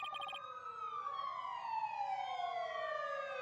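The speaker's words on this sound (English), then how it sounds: "I thought that ambulance was driving by outside. I'm not used to sound effects in my Ace Attorney games." Wailing ambulance siren from the Ace Attorney video game, a loud sweeping tone that rises and falls steadily with a brief warbling burst at the start, heard alone without talk.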